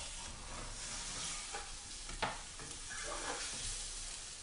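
A six-egg omelette sizzles softly in a pan while being stirred, with a steady frying hiss, a sharp scrape or tap near the middle and brief stirring scuffs toward the end, close and moderately quiet.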